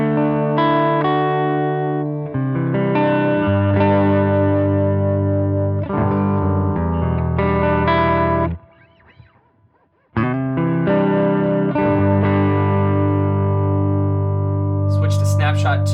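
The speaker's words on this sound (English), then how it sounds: "So let's hear snapshot 1 in the Princeton." An electric guitar plays clean chords through an HX Stomp XL on snapshot 1 with a Princeton amp model and reverb, strummed phrases ringing with a brief pause midway before playing resumes.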